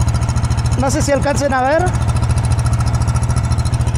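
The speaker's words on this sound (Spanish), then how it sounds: "tiene un escape muy igualito a lo que es del Volkswagen. Hasta se oye como un bocho, ¿eh?" A small gasoline engine in a mini VW Beetle replica idles with a steady, throbbing exhaust pulse close by, while a person speaks over it briefly before the engine carries on alone.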